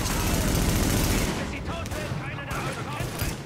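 Heavy bursts of automatic gunfire in the video game The Division, loud and dense at first, then thinning into scattered shots and crackling as the firing continues.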